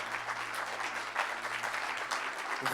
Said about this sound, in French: Acclamez très très fort